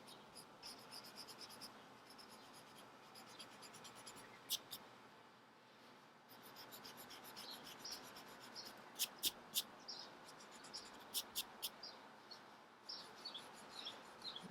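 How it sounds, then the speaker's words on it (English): Pencil and eraser scratching across paper while sketching an eye, a soft continuous rasp broken by brief sharper strokes and taps, with faint bird chirps in the background. "going in, drawing with the eraser as well"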